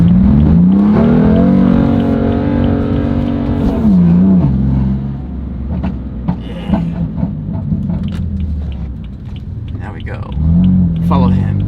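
A 600 hp BMW F80 M3 with the S55 engine revs up loud and close, then drops into crackling burbles and pops on lift-off before building again, heard from inside the car with a voice now and then.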